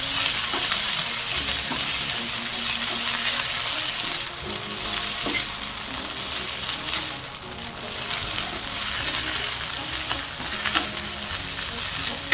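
Washed fenugreek greens sizzle and fry in a pan, with steady broadband crackle and occasional stirring scrapes running continuously at close range throughout.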